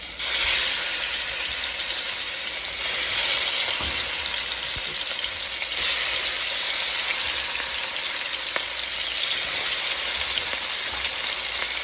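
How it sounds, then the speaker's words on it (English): Food fries in hot oil on a stovetop, giving a steady, close, dense sizzle that crackles continuously for the whole stretch with no talking. "So I just let it fry for a little bit."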